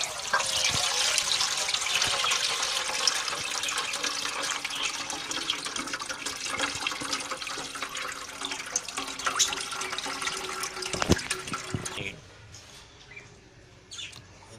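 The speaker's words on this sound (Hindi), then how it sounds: "पानी सारा नतार दिता, इहदे पा दिता कपड़े च, बाल्टी चो कपड़े चो नतार के तो बाल्टी च रख दिता" Water pours and strains through cloth into a bucket, a steady bright trickling rush that fades out near the end, leaving quieter handling sounds.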